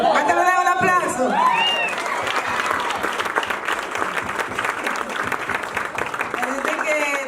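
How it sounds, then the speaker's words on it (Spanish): Sustained congregational applause fills a church pastoral celebration, steady and loud throughout, with crowd murmur and a few voices rising over it at the start. "¿Cuánto le damos un aplauso?"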